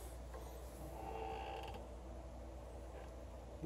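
Screwdriver prying back the rear brake caliper piston on a 2010 Chevrolet Camaro, giving a close, steady creaking and grinding of metal over a low background hum, with no talking.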